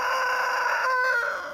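A chicken crows once, a loud, close, sustained call of about a second and a half that trails off at the end.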